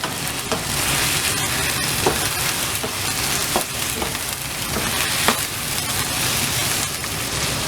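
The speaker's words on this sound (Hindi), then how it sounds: "मटन इसका कलर चेंज होने तक मटन को पकाएंगे" Mutton pieces frying in a pan for an Eid karahi gosht, a steady close sizzle with occasional sharper crackles and stirring clatter throughout, no talking.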